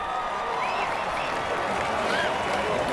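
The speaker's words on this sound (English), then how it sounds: "So please give a round of applause first and foremost to yourself." Applause from a gathered audience at an LGBTQ youth event, dense continuous clapping with crowd noise and faint voices mixed in, steady and fairly loud throughout.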